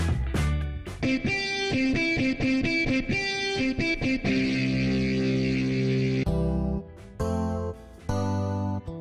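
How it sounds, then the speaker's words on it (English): An AeroGuitar electronic guitar plays distorted, effects-laden notes and chords in a quick rhythmic pattern, loud and close, ending with sustained strummed chords. "AeroGuitar has authentic guitar sounds."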